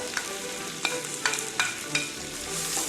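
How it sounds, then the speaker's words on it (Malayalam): Beef and chopped capsicum sautéed in a pan for Kerala-style beef ularthiyathu, a steady soft sizzle broken by five or six sharp scraping stirs of a spoon, close by and with no one talking. "നല്ലതുപോലെ വഴറ്റിയെടുക്കാം."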